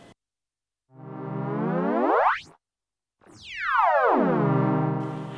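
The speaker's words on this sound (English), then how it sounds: "So what you heard there was the pitch going all crazy," A Novation Circuit synth pad swoops wildly as a macro knob drives the oscillator pitch: two loud sustained tones sweep up and then down, separated by a short silence, with no voice present.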